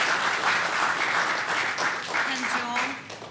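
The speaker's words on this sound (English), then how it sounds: "Ladies and gentlemen in the audience, if we could just keep the applause to yourselves." Audience applause at a city council meeting, a steady wash of clapping from a room crowd lasting a few seconds and tapering off at the end.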